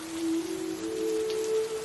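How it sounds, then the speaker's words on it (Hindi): Steady rain pounds on a thatched roof, a dense even patter with a sustained low drone running beneath it throughout. "बारिश की बूंदें छप्पर पर जोर जोर से टकरा रही थीं।"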